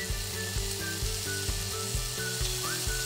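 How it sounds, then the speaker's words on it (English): Diced pork cubes sizzle steadily in a small amount of vegetable oil in a pan, a continuous close crackling hiss under faint background music. "small amount of vegetable oil in a pan. Place the pork in the pan."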